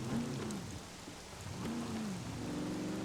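Steady rain hisses throughout with a low rumble of thunder underneath in the video game Scum, moderately quiet and continuous, no voices.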